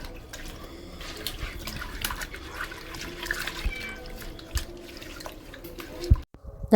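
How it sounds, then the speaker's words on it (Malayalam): Water runs and splashes as fish is washed with salt in a home kitchen, a continuous close trickle with small handling sounds and no talk. "ഉപ്പൊക്കെ ഇട്ട് കഴുകി എടുക്കണം"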